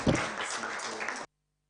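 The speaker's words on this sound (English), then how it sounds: "May we give them a round of applause" A conference audience claps together in a dense, even burst of applause that stops abruptly after just over a second, leaving silence.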